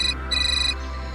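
A bright electronic ringtone chimes in short repeating bursts, clear and close, with no talking.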